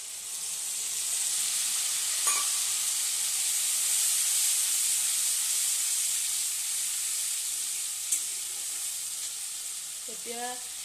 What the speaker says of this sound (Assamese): মোৰ এয়া মছলাখিনি ফ্ৰাইটো হৈ গৈছে